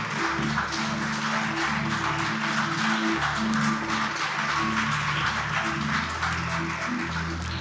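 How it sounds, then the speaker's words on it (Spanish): Church congregation clapping loudly during a sermon, a continuous wash of hands over low sustained music tones, steady throughout with no voices. "Un aplauso fuerte a Dios, por favor."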